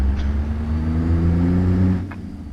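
Modded truck engine in American Truck Simulator drones steadily up close, a low continuous rumble with a faint rise in pitch before easing off near the end.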